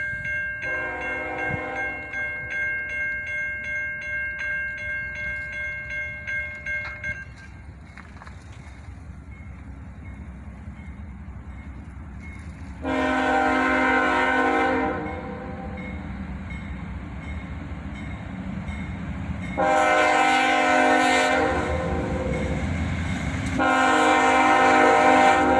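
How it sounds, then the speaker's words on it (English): A loaded CSX freight train rolls past with a low steady rumble and rail clatter, its horn blaring in several long, loud blasts, first a horn chord at the start, then two more sustained sounds later, close by. "the next train arrived"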